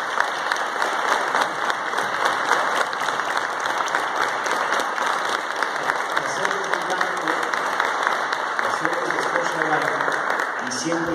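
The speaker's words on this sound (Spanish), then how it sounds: "Quiero que le demos un aplauso" A crowd at a youth event gives sustained, dense applause that stays loud and even throughout, with some voices rising near the end.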